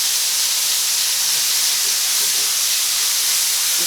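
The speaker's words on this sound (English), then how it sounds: "Our griddle, our comal is hot, so you're just gonna wanna go ahead and put your meat there." Meat sizzles loudly on a hot comal griddle with a dense, continuous hiss of frying, steady and close with no pauses or voices.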